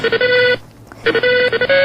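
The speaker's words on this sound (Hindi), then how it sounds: "किसका फोन आ गया?" A phone ringtone plays close and loud: bright electronic melodic tones in two bursts separated by a brief pause.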